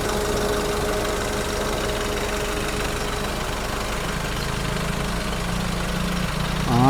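A 2019 Nissan Terra SUV engine idles steadily up close, a constant low rumble with faint knocking vibration, unchanging throughout, with a slight rise at the very end.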